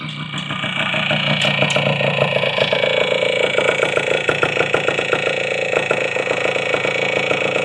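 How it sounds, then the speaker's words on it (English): A 1976 Yamaha TY175 trials motorcycle's single-cylinder engine idles close by, a steady even putter with a rapid regular pulse throughout and no talking. "idles beautifully."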